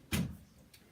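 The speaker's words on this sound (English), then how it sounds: "I need to shut the door." A door is shut nearby with a single firm thud, followed moments later by a faint soft knock as it settles, in an otherwise quiet room.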